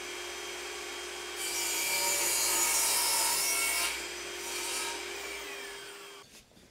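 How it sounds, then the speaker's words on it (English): A small block of wood is cut by hand with a saw, making steady rasping strokes that swell and fade over several seconds, close by and alone. "So what I think I'll do is just cut down a little block of wood"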